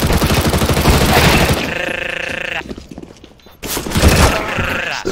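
A flashbang grenade detonates during intense video game gunfire, a loud burst amid rapid shooting, followed by a brief quieter gap and then more loud blasts and fire, with voices talking over the action.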